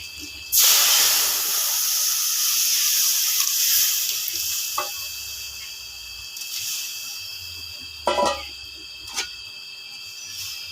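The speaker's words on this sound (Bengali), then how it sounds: "দিয়ে দিব রসুন কুচি মশলাটাকে ঢেলে" Chopped garlic tempering is poured into Bengali-style dal and hits with a loud sudden hiss. The sizzle runs strong for several seconds, then fades to a softer crackle, with a few clinks and scrapes of utensils near the end.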